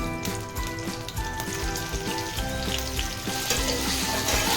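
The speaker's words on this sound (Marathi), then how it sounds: "आता आपण हे आपण तेलात परतून घेऊया" Coriander vadi sautéing in hot oil gives a loud, continuous crackling sizzle, with a low rhythmic pattern underneath as the pieces are shifted around the pan.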